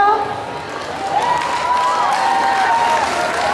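Audience at a K-pop dance contest at Milano Comics&Games 2018 applauds and cheers as a dance crew takes the stage, a steady wash of crowd noise with a loud voice running over it.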